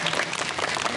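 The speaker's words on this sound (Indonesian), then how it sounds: "Tepuk tangannya." An audience at a school storytelling event applauds in a dense, steady burst of clapping with a faint crowd murmur, filling the short moment evenly without any speech over it.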